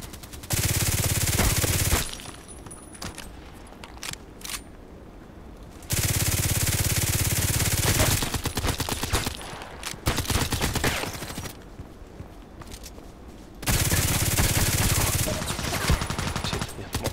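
Bursts of video game gunfire from blind shooting in a sniper-focused shooter, three loud dense volleys of rapid shots separated by quieter stretches with scattered single shots.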